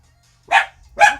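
A pet dog gives two sharp, loud barks close by, evenly spaced in an otherwise quiet room.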